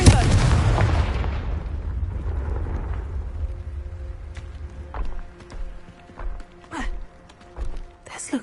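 A fiery blast spell cast in the Hogwarts Legacy game, one loud booming burst that rumbles and fades over several seconds, followed by scattered softer game sounds and a voice.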